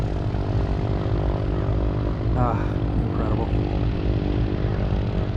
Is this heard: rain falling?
no